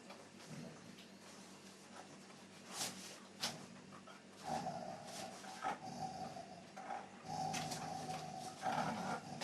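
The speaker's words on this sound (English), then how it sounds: "She plays with them and begins to actually teach them about" A mother dog plays with her late-weaning puppies, with soft whimpers, growls and panting at close range in a quiet room, interspersed with scuffling and a few higher yelps.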